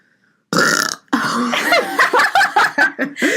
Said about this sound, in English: Oh my gosh, I need to burp.